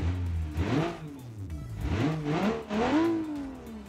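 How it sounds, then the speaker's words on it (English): A turbocharged ricer car's engine is revved repeatedly after starting, with three or four throttle blips that rise and fall in pitch, close and fairly loud, with a mid-range growl and no voices. "So the engine sounds good"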